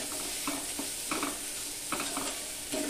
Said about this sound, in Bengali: তো চিড়াটা দিয়ে এভাবে একটু নেড়ে চেড়ে দিতে হবে।